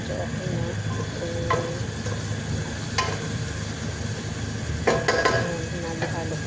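Chicken kabsa is stirred in a pot, giving a low sizzling bed under a few scraping, clinking strokes of a utensil against the metal, moderately loud and close.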